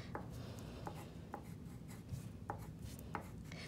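Marker or pencil strokes as a name is written in uppercase letters, short scratchy taps and strokes at an irregular pace, close and quiet over a steady background hiss with no talking.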